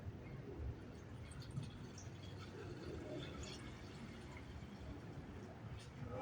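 Chlorine bleach poured from a container into a bottle, a steady liquid gurgle and splash running throughout, close and fairly quiet with faint background noise.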